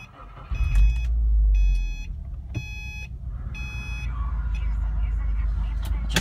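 A 2011 Subaru Impreza WRX engine cranks and catches, settling into a steady idle, while dashboard warning chimes beep in short repeated bursts.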